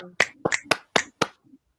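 Audience finger snaps as applause at a poetry showcase, five sharp clusters of snapping in a quick uneven rhythm, fairly close and clear, then fading to silence.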